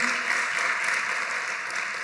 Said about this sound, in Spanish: den un aplauso a ellos también